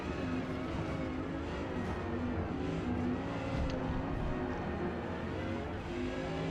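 An Audi R8 race car in Forza Motorsport on the Mid Ohio track, its engine a steady, moderately loud drone held at high revs down the back straight, with no clear shifts or lifts.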